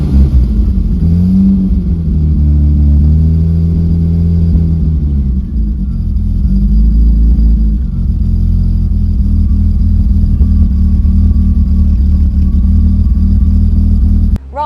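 A 1970s Austin Princess wedge car engine idles, heard close from the rear of the car as a loud, deep, steady rumble, with a brief rise in revs early on before it settles back to an even idle.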